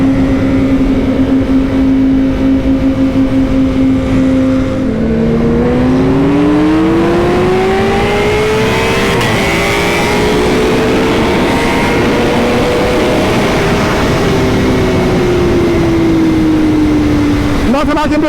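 BMW M 1000 RR motorcycle with an aftermarket exhaust, a loud steady engine drone that rises and falls in pitch as the revs change, heard up close throughout with a rider's voice speaking over it.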